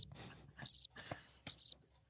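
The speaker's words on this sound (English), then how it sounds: "crickets everywhere" Two short bursts of cricket chirping, each a quick trill of pulses, separated by brief pauses with faint murmurs in between.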